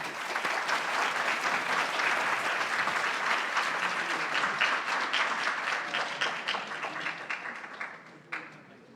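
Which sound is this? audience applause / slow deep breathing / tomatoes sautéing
audience applause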